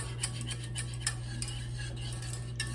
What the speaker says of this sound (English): you're going to do a lot of stirring. Whisk is very helpful